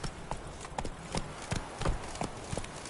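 Hooves of Geralt's horse Roach galloping in The Witcher 3, a rapid, steady clip-clop rhythm at moderate volume, continuous and close, with no talk.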